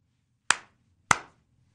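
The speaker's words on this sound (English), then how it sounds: "Two claps." Students in a classroom give two sharp, crisp claps in unison, spaced about half a second apart against a quiet background.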